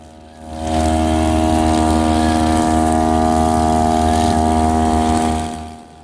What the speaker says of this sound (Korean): 예초기 엔진 소음을 들어보시면 아시겠지만 예초기 힘이 무척 딸린다는 것이 느껴지지 않습니까?